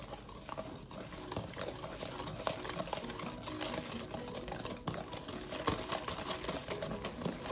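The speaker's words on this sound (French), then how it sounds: "Et on mélange." Chocolate fondant batter is mixed by hand in a bowl, giving a faint, continuous run of soft scraping and light tapping with quick irregular strokes and no voices.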